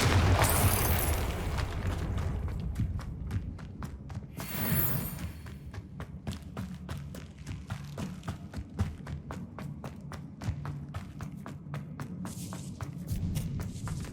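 Confringo fire spell blast in Hogwarts Legacy, a loud burst followed by a second boom and crackling, rumbling debris and a fast rhythmic run of game sounds, with no talk.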